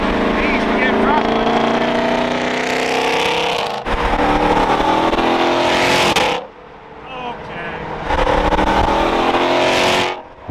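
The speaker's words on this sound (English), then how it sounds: "They are both just epic American muscle car beast, that's for sure." A loud American muscle car engine revs hard in close bursts, roaring for several seconds, dropping off briefly, then surging again with a thick, rumbling exhaust note.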